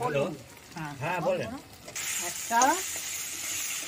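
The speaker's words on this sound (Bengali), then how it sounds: "বড় সাইজের টমেটো দিলাম, একটু নাড়াচাড়া করবো টমেটোটাকে" A large tomato drops into a hot pan in a home kitchen, hissing and sizzling steadily while being stirred, with someone speaking over the cooking sounds.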